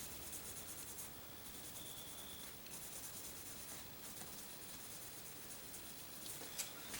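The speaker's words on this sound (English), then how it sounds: "I'm going to go ahead and take the steel wool." Steel wool rubs against a rust-scored part of a used Springfield M1A rifle, a continuous soft, hissing scratch at close range with slight swells in the strokes.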